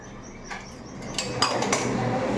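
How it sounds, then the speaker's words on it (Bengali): A metal lid goes onto a pressure cooker in a home kitchen, giving a few light clinks and scrapes of metal against metal, close and moderately quiet, with no talking. "প্রেসার কুকারে ঢাকনা দিয়ে দিই"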